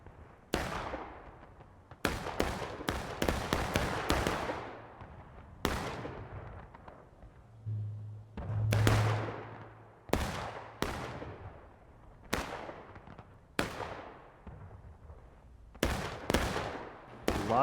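Repeated artillery cannon blasts from a large multiplayer Civil War battle game on the Maryland Campaign map, loud sharp booms in irregular bursts with long decaying tails, some close and others farther off, with no talk.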